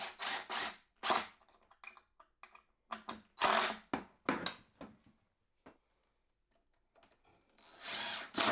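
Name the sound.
power drill driving screws into wood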